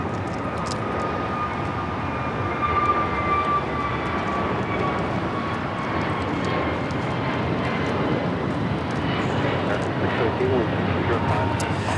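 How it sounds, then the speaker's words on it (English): American Airlines Airbus A321neo taking off from Los Angeles bound for Philadelphia, a continuous wide jet rumble at a distance with a thin whine gliding through it, steady in level, with people talking beneath. "This is American Airlines Flight 2018 taking off to Philly on the A321neo."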